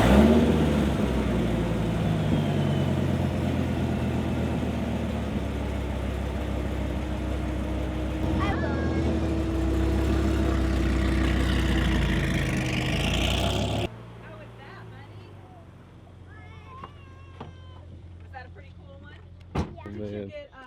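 Dodge Viper engine turning over at a push-button start and revving loudly and close, a sustained roaring drone that cuts off abruptly, leaving quieter handling noises and clicks; voices speak over the running engine.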